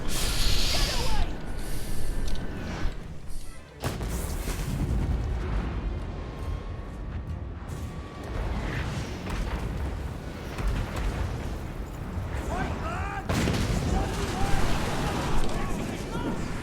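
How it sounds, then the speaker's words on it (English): Heavy mortar artillery blasts in the Pirates of Sartosa strategy video game, loud booming explosions and rumbling battle noise layered densely over continuous game sound, with a brief drop before the barrage resumes. "I love having that big fat mortar."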